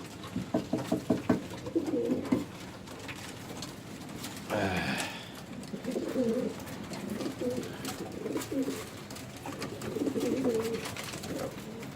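Pigeons, including a white-headed male, coo repeatedly at close range while being fed, in low, throaty, pulsing calls spread through the scene, with a brief flurry of noise partway through.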